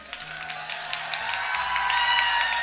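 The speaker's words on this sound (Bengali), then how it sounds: "জোরে হাততালি।" Applause swells from a school audience, steady clapping that builds and grows louder toward the end, with a low hum beneath.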